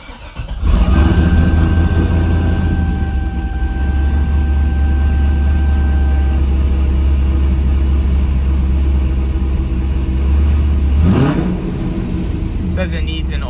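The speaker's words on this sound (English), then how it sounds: "Car sounds really good" A 2006 Chevrolet Corvette engine runs at a steady idle, loud and close, with a brief rev toward the end.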